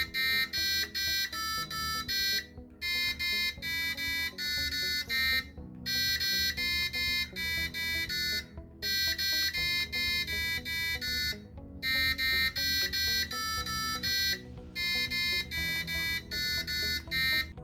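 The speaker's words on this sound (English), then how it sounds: "a simple song being played by the buzzer when the buttons are pressed on the IR remote" A piezo buzzer on an Arduino UNO R4, triggered from an IR remote, beeps out a simple tune in short electronic tones, grouped into repeated phrases with brief pauses between them, close and clear with nothing else in the background.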